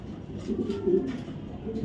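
Foreign racing pigeon, an ARPCD club racer, cooing softly in a few low throaty phrases close by, with faint background murmur and no clear speech.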